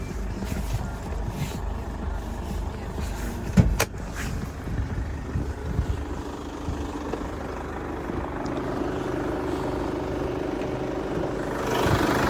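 A 2013 Chevrolet Captiva 2.2 diesel with an automatic gearbox idles, giving a steady low engine rumble heard from close by, with a brief clunk partway through and no voices.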